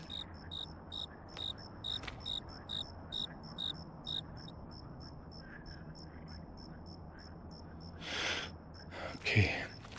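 Crickets in a video game forest by a lake, chirping in a regular pulsing rhythm at first, then a steady high trill, with a soft low frog croaking underneath and a couple of brief rustling bursts near the end.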